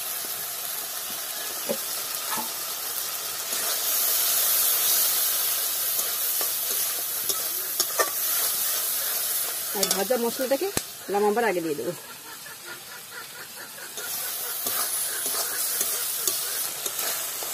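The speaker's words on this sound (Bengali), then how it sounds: "আমি ভালো করে কষিয়ে নিচ্ছি।" Half-ripe jackfruit curry with spices sizzles and hisses in a hot pan as it is stirred and sautéed, with scraping strokes over steady frying noise while someone talks over it.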